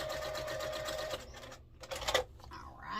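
A sewing machine runs steadily at close range, stitching a quilt block seam without a quarter-inch foot, then slows and stops, picks up in short bursts and runs again.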